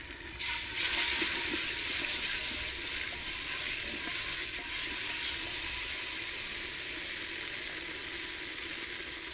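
Salted masala for a pumpkin curry sizzles steadily in a hot pan as it is stirred, a dense, close frying hiss that holds at an even level throughout with no talking.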